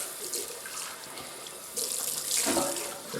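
Tap water runs steadily into a sink to rinse off after a shave with Sicilian lime shaving cream, the splashing growing louder and brighter partway through as hands move under the stream.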